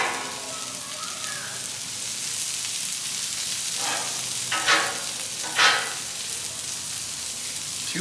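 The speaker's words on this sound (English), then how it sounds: "This is going to cook up quickly. All we're trying to do is get a little flavor, color on our mushrooms and onions." Mushrooms and onions fry in a pan with a steady, close sizzle, broken by two brief louder bursts of crackle as the food is stirred, and no talk.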